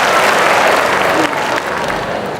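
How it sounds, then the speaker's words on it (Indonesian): An audience at a speaking event bursts into steady, close applause, a thick wash of clapping that carries on and softens toward the end. "Sendiri kita kasih tepuk tangan Pak Sudrajat."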